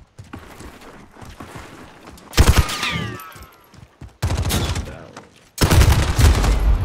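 Gunfire from a gun in a video game, loud sharp bursts in three distinct volleys separated by quieter gaps, with faint game ambience between them.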